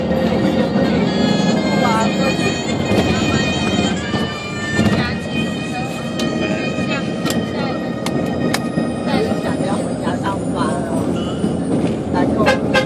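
Rumbling, clattering train noise with rhythmic rail knocks, with people talking over it throughout.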